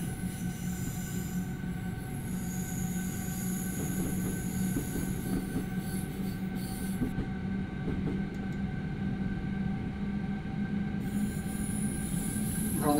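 Train Simulator 2021 train on the Garmisch-Partenkirchen to Farchant line runs with a steady rumble, a low hum and wheel squeal throughout, continuous and moderately loud, with no talk.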